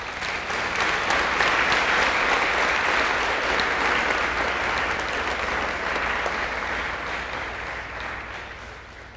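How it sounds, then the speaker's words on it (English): An audience claps for cadets at a high school NJROTC change of command ceremony: loud, sustained applause filling the room, holding steady before tapering off slightly at the end. "Please give them a round of applause."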